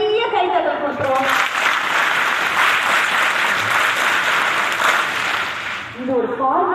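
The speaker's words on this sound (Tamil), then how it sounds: "உங்க ஸ்கூலுக்காகவும் உங்க டீச்சர்ஸ்க்காகவும் முதல்ல ஒரு பெரிய கைத்தட்டல் கொடுத்துருவோம்" A big round of clapping for a school and its teachers at a government girls' higher secondary school in Ashok Nagar, dense and loud for several seconds, with voices speaking just before and after.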